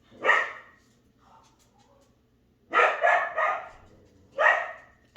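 A dog gives several loud, close barks: one near the start, then a quick run of three around the middle, and a final bark near the end, with quiet gaps between.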